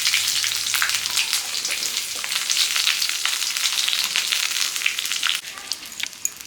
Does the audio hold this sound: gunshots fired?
no